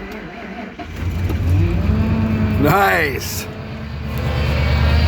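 An old Ford pickup truck engine cranks in extreme cold of 31 below Fahrenheit, then catches and roars up in a rising rev before settling into a rough idle, with someone speaking briefly nearby.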